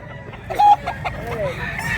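Chickens cluck and call at a rooster sale in Mantalungon, Cebu, with a short, sharp squawk standing out among scattered fowl sounds over a busy market background.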